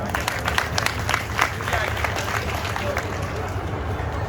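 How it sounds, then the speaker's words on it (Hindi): Crowd at a farmers' sit-in protest against the Noida Authority claps loudly and steadily in a dense, sustained burst, with murmuring voices mixed in. "पहले मैं सबसे पहले अपनी माता और बहनों के लिए एक बार जोरदार तालियां चाहता हूं"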